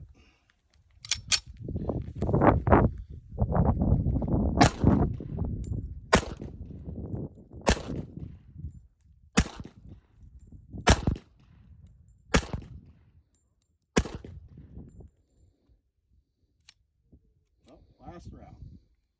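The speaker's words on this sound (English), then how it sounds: "we got the Cimarron 45. We'll do a little old style shooting with it." A Cimarron 1911 A1 .45 ACP pistol is fired old-style, about eight sharp, loud, close reports spaced a second or two apart, with talking over the first few seconds.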